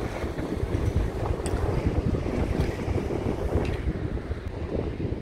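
Steady, gusty wind roars across the mic beside a frozen estuary (liman) in Yeysk, with a continuous rushing noise that holds loud throughout. No one speaks.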